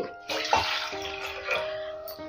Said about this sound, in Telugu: 2 కప్పులు నీళ్ళు పోసాం కదా